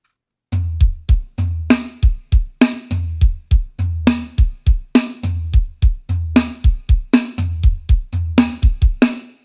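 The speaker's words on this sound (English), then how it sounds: "one thing I love to do with my inverted paradiddle is I pick my notes, take away some lefts and replace them with the kick." Drum kit playing inverted paradiddle patterns with some left-hand strokes replaced by kick drum hits, crisp snare and tom strokes mixed with thumping bass drum in fast repeating phrases, loud and close with no talking.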